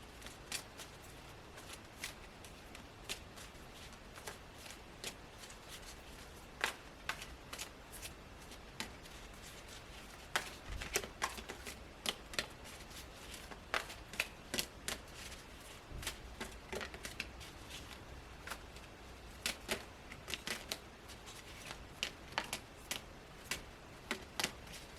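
Oracle cards being shuffled alone at close range, a steady run of soft riffling and slapping card sounds with brief sharp snaps, fairly quiet throughout.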